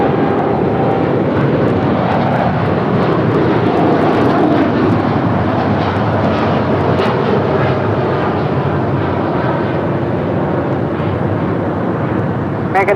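Airliner landing on runway 25 left at LAX, a loud continuous jet engine roar with broad rumbling noise that holds steady throughout, heard from nearby on the airfield.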